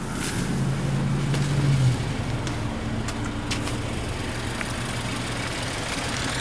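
A 2014 Subaru Forester XT's turbocharged, intercooled 2-liter four-cylinder idles with the hood open at night, giving a steady, even low hum with no talk over it.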